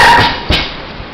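Dogs at a home kennel let out a couple of short barks, with one sharp yip near the middle, close and fairly loud in a brief outdoor moment.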